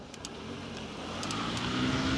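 A car passing on a New York City street near Central Park West, heard from a bicycle, its engine and tire noise swelling gradually from faint to louder amid distant traffic.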